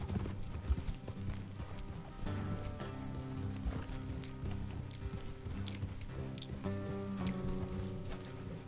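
Horses clip-clop along at a steady walking pace amid a busy Red Dead Redemption 2 soundscape with music and ambient noise, the hoofbeats continuous throughout.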